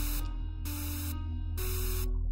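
Broadband white noise from the Mysterious Hole hisses in three long bursts separated by short gaps, laid over a steady low hum.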